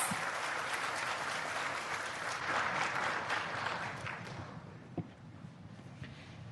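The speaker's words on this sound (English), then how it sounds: "Please welcome President Tsai with a warm round of applause." Audience applause welcoming President Tsai at the opening ceremony of the 2022 Yushan Forum in Taiwan: a loud, steady wash of many hands clapping that fills the hall, then slowly thins and fades near the end.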